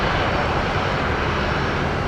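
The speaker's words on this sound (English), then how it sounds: "A330 to LAX, about to begin their takeoff roll" Airbus A330 jet engines spooling up for a full-length takeoff roll at Brisbane Airport at night, a loud, steady broadband roar that holds constant throughout with no talk.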